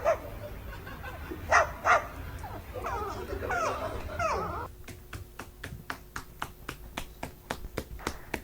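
A parrot mimics a dog, giving a few sharp bark-like calls near the start, followed by a quick series of evenly spaced clicks or snaps.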